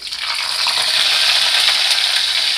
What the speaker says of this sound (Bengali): ভেজে নিচ্ছি ফোড়নটা এখানে ভাজা ভাজা গন্ধ আসছে